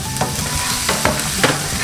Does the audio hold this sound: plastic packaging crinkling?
no